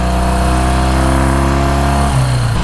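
A 1966 Triumph Bonneville engine runs loud and close while ridden, a steady throbbing drone that shifts pitch near the end as the revs change.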